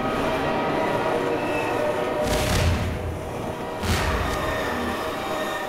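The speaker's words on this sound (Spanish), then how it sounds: "Bocina del tren." A train horn in the Half-Life 2: Dangerous World video game sounds in two loud blasts over a steady rumbling rail ambience, with no talking.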